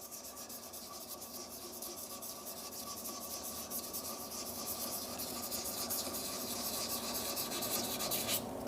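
Quiet, continuous rubbing and scraping of sandpaper against a stabilised amboyna burl shaving brush handle, a steady rhythmic abrasion with no talking, lathe off.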